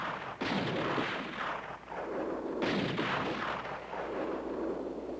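Artillery guns firing in a 1970 Disney film set on a mountain, heavy booming blasts rolling into one another across the whole stretch, with a sharp new shot landing near the start and another midway through, dense and loud with no speech.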